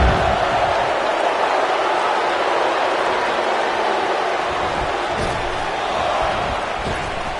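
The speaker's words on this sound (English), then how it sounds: "I don't remember the last time I heard a more passionate crowd than the one we have here tonight" Arena crowd noise from WWE 2K19 at a Survivor Series event, a loud, dense roar of cheering that stays constant throughout.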